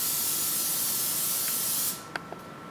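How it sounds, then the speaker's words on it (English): Cooking spray hisses from a can into a cake pan for vanilla cake, one steady close spray lasting about two seconds, then a couple of faint clicks and taps. "an easy way that you can do this is you can use a cooking spray"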